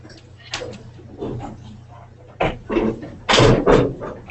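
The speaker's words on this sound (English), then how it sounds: "Shut the door." A classroom door being shut, a couple of dull thuds and knocks close by, mixed with low shuffling and room noise.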